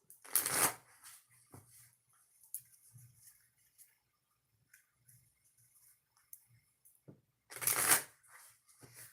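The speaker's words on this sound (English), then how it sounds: "I just shuffled the cards" Tarot cards are shuffled in two brief riffling bursts, one at the start and one near the end, with quiet soft handling sounds between.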